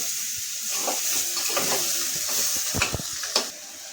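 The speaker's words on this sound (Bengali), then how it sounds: "মশলাগুলো দিলাম, একটু ভালো করে কষিয়ে নিচ্ছি যাতে মশলা গন্ধটা না ছাড়ে।" Spices stir-fried in oil in a pan for vegetarian Bengali ghugni, a continuous sizzle with a few sharp scrapes and knocks from the stirring spoon near the end, close and with no voices.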